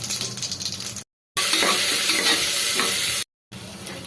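Chopped onions hit hot groundnut oil with crackled mustard seeds for a mutton curry and sizzle loudly as they are stirred, with a steady close frying hiss broken by two brief silent gaps.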